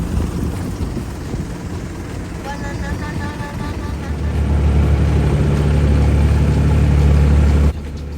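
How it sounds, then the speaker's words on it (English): A very long coal barge moving down a river toward Bangkok gives a steady low engine drone and water wash that swells louder midway, then cuts off near the end. "this was an unbelievably long barge, apparently moving coal down the river to Bangkok"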